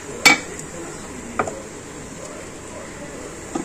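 Cumin potato fry being served from a pan onto a plate in a home kitchen, a few sharp metallic clinks and scrapes of a utensil against cookware, spaced apart over faint background noise.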